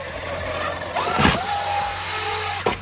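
A Traxxas UDR RC truck with a broken differential lets out short electric motor whines that rise and fall in pitch, with a few sharp grinding bursts over steady background noise.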